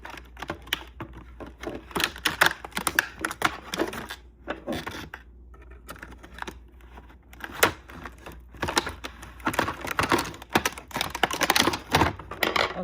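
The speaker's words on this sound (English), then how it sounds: "this plastic was so hard to get it out of, but I finally got it out" Hard plastic packaging being pried and pulled apart to free a saw, with dense crinkling, snapping and scraping bursts that come in irregular clusters, pause briefly midway, then resume loudly and close up.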